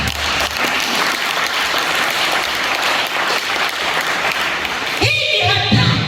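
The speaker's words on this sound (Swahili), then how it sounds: "Pigia Bwana makofi." A church congregation claps at a sermon, giving dense, loud and sustained applause for about six seconds that swells near the end with a few voices mixed in.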